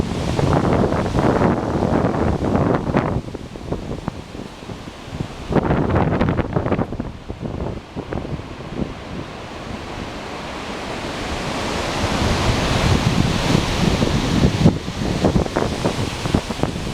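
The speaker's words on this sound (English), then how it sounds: "How's this for a windy day?" Strong, gusty Sydney westerly wind roars loudly and continuously, a broad rushing buffet over the microphone that swells and eases in waves, with sharper gusts near the start and middle and a steady build toward the end.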